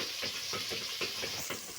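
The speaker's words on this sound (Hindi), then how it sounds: "अभी तकरीबन 2 से 3 मिनट हम इनको अच्छी तरह से भूनेंगे" Browned onions and tomatoes fry in a pan for spicy kofta masala, giving a steady close sizzle with soft rhythmic stirring scrapes throughout, no voices.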